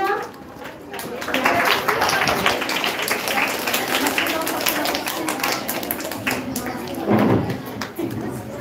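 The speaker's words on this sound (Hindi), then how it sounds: "तो बच्चों के लिए जोरदार तालियां।" An audience claps loudly and steadily for schoolchildren at an Independence Day celebration at a school, a dense sustained wash of hands that rises again near the end, with voices mixed in.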